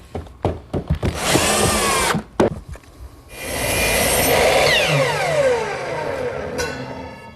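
A power drill whines in short bursts, then runs in longer sustained pulls as it drives screws into a plywood top and frame on a chop saw station, loud and close with no talk.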